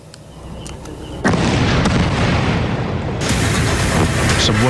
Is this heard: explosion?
yes